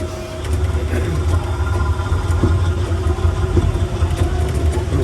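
A real farm tractor used as an amusement park ride rumbles with a steady, loud low engine drone, with faint clicks and rattles over it and no talking.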